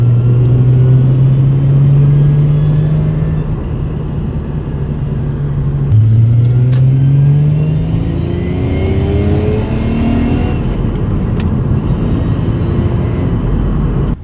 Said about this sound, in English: It sounds very different when you have a manual transmission.